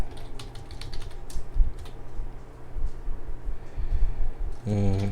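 Steady typing on a computer keyboard, close and fairly loud, with a continuous run of quick clicking keystrokes and a brief burst of another sound near the end.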